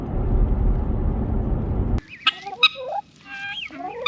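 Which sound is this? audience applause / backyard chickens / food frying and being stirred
backyard chickens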